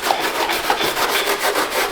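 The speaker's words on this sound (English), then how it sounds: "So you're sanding down so that the fiberglass can sticks." Rhythmic, raspy sanding strokes scrape back and forth across a fiberglass wing surface, close and steady with no voices.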